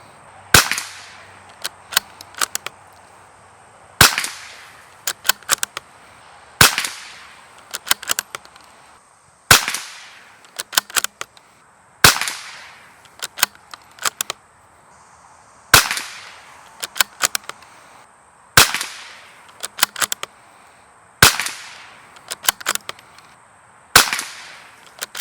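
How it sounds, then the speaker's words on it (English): A Bergara BMR-X .22 rimfire bolt-action rifle fires a 10-shot group: sharp, loud cracks spaced a few seconds apart in a steady cadence, with fainter clicks between shots. "one more 10-shot group with the BMR-X"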